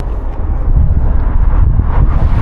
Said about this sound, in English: The wind is definitely the worst when you're on these massive bridges going through the valley